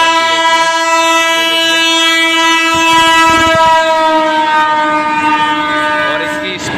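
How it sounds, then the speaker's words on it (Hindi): A fast goods train loaded with pipes passes a small railway station, blasting a loud, sustained horn over the rumble and clatter of wagons, very close and alone without talk. "तो दोस्तों ये अभी गूड्स ट्रेन है, इसमें जो है पाइप वगैरह कुछ चीज़ भरी हुई है।"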